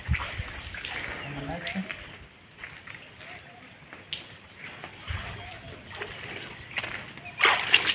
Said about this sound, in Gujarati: આપણે રીંગણા ધોવા નાખીએ